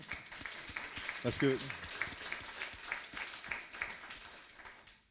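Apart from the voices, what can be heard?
audience applause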